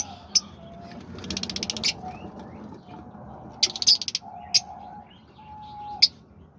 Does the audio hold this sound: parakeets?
yes